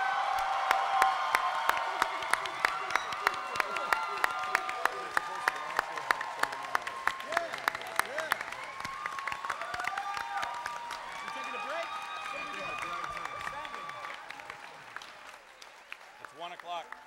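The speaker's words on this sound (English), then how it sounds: "big round of applause for these guys" Convention crowd applauding and cheering a panel at the end of a comic-con session, with sharp individual claps, whoops and voices over a sustained clapping wash that slowly thins out toward the end.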